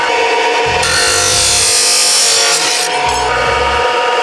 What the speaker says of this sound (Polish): mamy ustawioną piłę na jeden wymiar, czyli teraz tniemy jeszcze 178 rurek